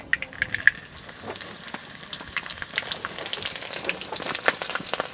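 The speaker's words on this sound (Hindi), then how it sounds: "इसके बाद हम लोग मिर्च डालेंगे" Finely chopped green chillies and a bay leaf frying in oil in a pan, a steady crackling sizzle full of small pops and spits, close and moderately loud, with no speech.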